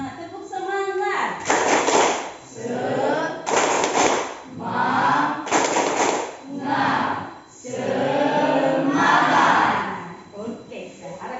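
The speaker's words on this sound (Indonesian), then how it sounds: "Kita tepuk semangat dulu lah." Classroom students doing a tepuk semangat spirit clap: a group chanting in unison with rhythmic bursts of clapping, repeated in several loud waves.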